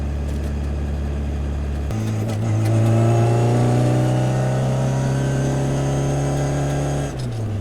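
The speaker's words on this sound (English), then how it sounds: "I'm in 3rd gear, and it's just pulling this hill easy" A 1968 Austin Mini Cooper engine pulling up a hill in third gear, a steady close droning hum that shifts and rises in pitch partway through, loud and continuous with faint road noise.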